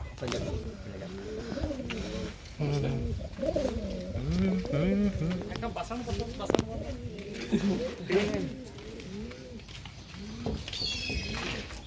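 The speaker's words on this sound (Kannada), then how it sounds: "ಪಾರಿವಾಳ ಇದಾವ ಇಲ್ಲಿ" Pigeons coo nearby in a bird enclosure at a riverside ghat, repeated soft throaty rising-and-falling calls throughout, with a person talking over them.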